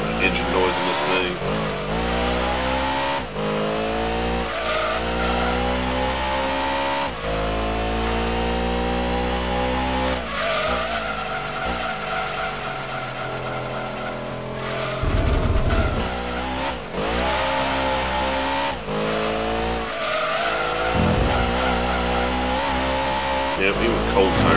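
A race car's engine in the Gran Turismo 2 video game drones and revs loudly and continuously, its pitch climbing and dropping through gear changes, with tire noise and talk heard over it at points.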